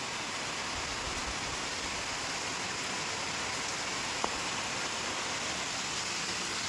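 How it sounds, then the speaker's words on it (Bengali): Rain falling outside in a steady, even wash of hiss and patter, continuous and fairly faint, with a single small tap partway through and no voices. "কিন্তু এখন দেখো বৃষ্টি পড়ছে।"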